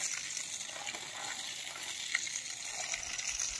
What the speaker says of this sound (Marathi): हा बोर खोदून त्यांना या प्रकारे पाणी मिळालं